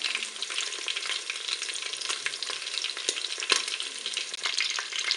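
Duck breasts sear skin side down in a Cookeo multicooker on browning mode, giving a steady, close, crackling sizzle throughout with occasional sharper pops.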